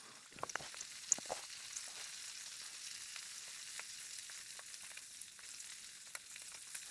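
An egg fries in a pan, a steady crackling sizzle with scattered sharp pops and spits, the first few louder near the start, then an even hiss running alone throughout.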